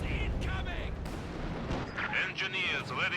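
Tank cannon fire in Company of Heroes 2 comes as heavy booms and battle noise, with a voice talking over the gunfire in the game.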